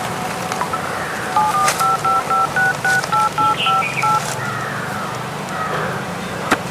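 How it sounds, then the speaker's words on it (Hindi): A telephone keypad dials out to call the police: a quick run of about a dozen evenly spaced, two-tone beeps rings out clearly over a faint background hum, then stops. "तो अभी पुलिस के पास फोन करता हूँ"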